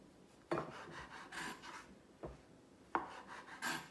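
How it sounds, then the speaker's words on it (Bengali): A knife trims the brown crusts off slices of bread in a home kitchen, giving soft scraping rasps and a few sharper cuts against a board, quiet and close with no talking. "আমি এখন পাউরুটির ব্রাউন অংশগুলো এভাবে কেটে নেব।"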